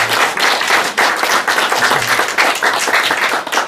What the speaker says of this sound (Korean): 우리 수고한 우리 수료생들의 박수하겠습니다.